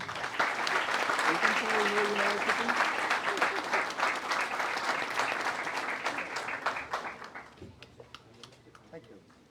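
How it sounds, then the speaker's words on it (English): An audience at a youth programme event applauds, dense clapping that stays strong for several seconds and then thins out, with a little speech underneath before it fades away. "Please give a big round of applause."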